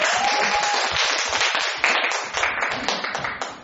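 Teachers clap together at a school newsletter case presentation, a dense, steady burst of applause that fills the room for several seconds, with a few scattered voices beneath it.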